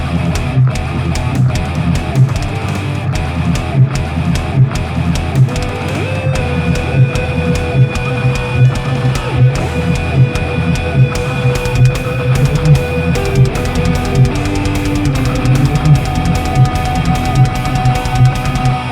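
Loud heavy metal mix with pounding drums and distorted guitars, while a smooth sustained EBow electric guitar line glides on top, holding long notes.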